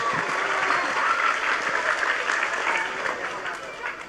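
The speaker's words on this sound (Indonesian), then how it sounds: "Tepuk tangan dulu." A crowd claps in continuous, lively applause, a dense and fairly loud sustained patter of hands with crowd voices mixed in, fading slightly toward the end.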